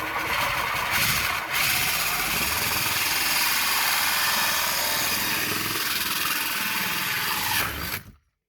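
A hole is drilled through a thin painted motorhome wall, giving a loud, close, continuous drill whine for about eight seconds, with a brief dip near the start before it stops abruptly.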